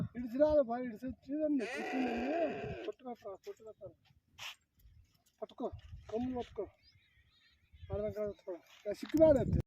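Sheep in a flock bleat repeatedly throughout, wavering calls coming close together and overlapping, with quieter gaps between bursts out in open grazing country.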